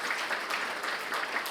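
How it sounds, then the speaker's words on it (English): An audience at a military appreciation lunch applauds veterans, a steady dense clapping that fills the short moment at moderate level with no talk over it. "let's give them a round of applause"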